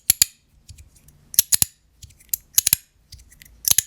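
A Chenyu Zirc bamboo slider magnetic fidget toy gives sharp, crisp clicks in close pairs and small clusters, separated by quieter sliding rustles, loud and close-up with no voices.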